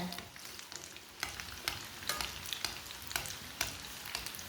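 Gola kababs frying in a little oil over a medium flame, a soft continuous sizzle broken by regular crackling pops and light spatula taps, close and fairly quiet with no voices.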